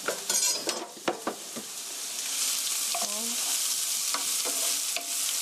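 Chopped onion and garlic stir-fried in hot oil: a few quick scraping and clattering stirs at first, then a steady, bright, crackling sizzle with occasional utensil taps.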